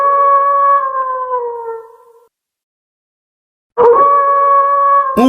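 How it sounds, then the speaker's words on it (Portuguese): A wolf howls in long, sustained tonal wails, one drawn-out howl fading into silence before a second loud howl rises again, heard alone and close with no talk. "Um lobo."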